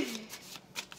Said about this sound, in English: All right, we'll shuffle the cards.